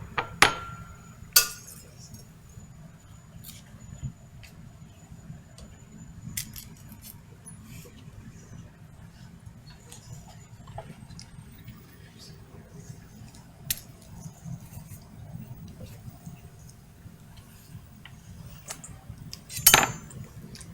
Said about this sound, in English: I'm going to cut our bananas.